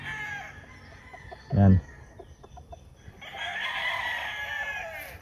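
Chickens at a poultry keeper's farm in the Philippines, with a loud close crow-like burst early on, then sustained clucking and crowing chatter in the later half, with a brief spoken word near the start.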